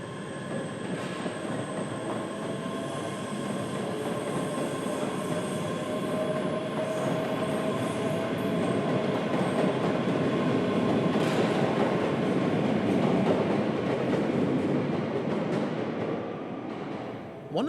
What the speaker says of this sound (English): Departing from platform 3, almost immediately our train begins a 1 in 45 climb up the Cowlairs incline,